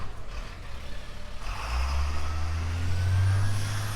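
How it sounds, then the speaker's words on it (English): A large tour bus climbs a park road at Chimney Rock, North Carolina, its deep engine rumble swelling louder and nearer over the last half, a steady low drone with faint air noise above. "You see big buses come up through here"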